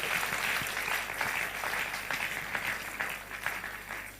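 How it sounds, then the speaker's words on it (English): A crowd at a Nigerian political gathering of Obidient supporters claps steadily, a dense patter of many hands at moderate distance, with faint voices murmuring under it. "Clap for yourselves."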